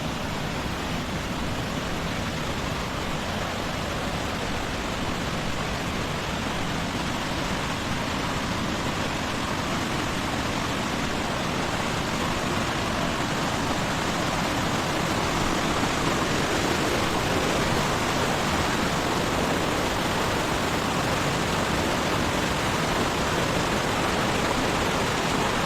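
Dharmatam waterfall near Vizag pours down a hillside in a loud, unbroken roar of falling water, steady and close throughout with no one talking.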